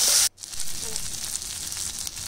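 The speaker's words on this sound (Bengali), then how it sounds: "লঙ্কা আর একটু জিরে, এটাই ফোড়ন দেবো।" Chili and cumin hitting hot oil for tempering give a loud, steady, close sizzle that starts with a sharp burst, cuts out briefly, then settles into a continuous crackle.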